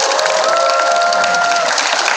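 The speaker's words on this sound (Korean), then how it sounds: "다시 한번 두 선생님께 박수 부탁드립니다." Audience applause at an outdoor labor-student solidarity rally at Seoul National University, a dense steady wash of clapping from a crowd lasting throughout, loud and continuous with no talk over it.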